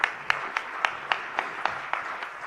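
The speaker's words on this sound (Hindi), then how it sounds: "सभी शिक्षक शिक्षिकाओं के लिए जरा मिलकर तालियां बजा दीजिएगा" An audience claps together for teachers at a religious discourse, producing about ten sharp, evenly spaced unison claps in a steady rhythm over a faint background hum.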